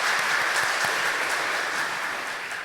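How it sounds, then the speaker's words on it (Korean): A church congregation applauding during a Sunday worship service, a steady wash of many hands clapping together that tapers off slightly toward the end. "하나님께 영광의 박수 올려드리겠습니다"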